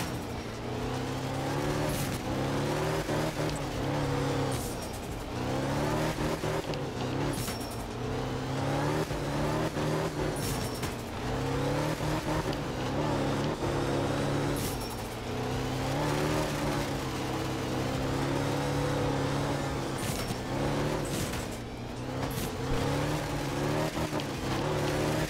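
Fujin rally car from art of rally on a wet Finland stage, engine revving steadily with repeated rising and falling pitch sweeps through gear changes, loud and continuous, with sharp brief clicks at intervals and no talk.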